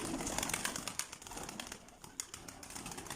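Arap breed pigeons cooing softly in a continuous low murmur, with a busy background of rustling and faint chatter nearby.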